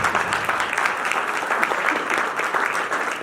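Enthusiastic audience applause fills the space, a dense, steady clatter of many hands clapping at moderate volume throughout, with no voices on top.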